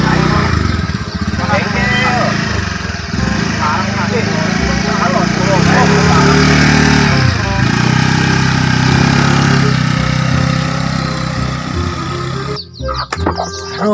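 A motorcycle engine is kicked into life and runs loudly and steadily close by for most of the stretch, a droning mid-pitched rumble that cuts out abruptly near the end.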